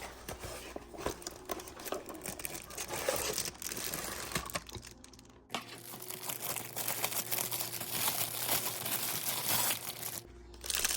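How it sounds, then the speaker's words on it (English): Packaging for a peel-and-stick paper towel holder being unboxed, with steady quiet crinkling, rustling and tearing of wrap and cardboard close by, and no talk. "let's unbox this paper towel holder and let's see what's inside"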